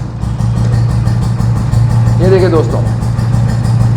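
An old restored Royal Enfield Bullet motorcycle engine idles close by with a steady, low, even thump, while someone speaks briefly over it.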